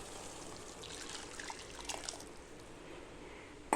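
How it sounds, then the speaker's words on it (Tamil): Water left from boiling peas is poured into a cooking pan, a soft, faint, steady trickle of liquid lasting a few seconds with a brief clatter at the end, no talking. "இப்போ அந்த பட்டாணி தண்ணியை நம்ம இப்போ இதோட சேர்த்துக்கலாம்."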